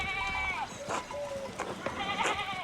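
Sheep bleat in a pastoral scene in the video game Pentiment, two wavering bleats near the start and end, set over a soft outdoor ambience.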